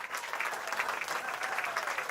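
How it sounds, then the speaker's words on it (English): Audience applause fills a panel show studio, a steady dense wash of many hands clapping at moderate level with no voices over it. "I'll wait for the clapping to stop."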